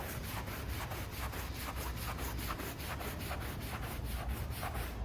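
Steady, rapid scrubbing of a drill brush against carpet, held in two hands, a continuous rhythmic rubbing with a low motor hum beneath, close and fairly loud.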